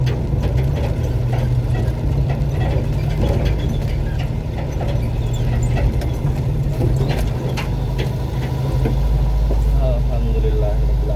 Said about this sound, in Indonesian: mesin masih nyala dan saya akan memperlihatkan cara mematikan mesinnya.